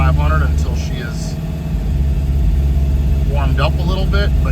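A 1971 Alfa Romeo GTV engine during a cold start runs close by with a steady, throaty idle that holds evenly throughout, while a voice talks over it.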